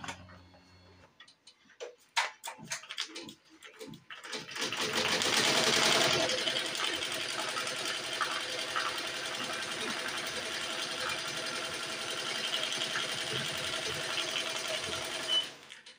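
A BAi Mirror 1501 embroidery machine stitches a car mat in a Mighty Hoop, its rapid, steady needle ticking running continuously and fairly close after a few opening clicks and clunks.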